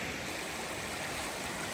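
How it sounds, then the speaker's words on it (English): A waterfall on the Appalachian Trail between New York and Kent, Connecticut, rushing as a steady, even wash of water noise heard faintly from a distance, with no voices. "That waterfall from yesterday."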